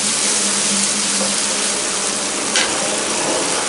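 Dark soy sauce being stirred into a bread-corner mixture with vinegar and chili vinegar, giving a steady close wet stirring and sizzling hiss throughout, with no talk.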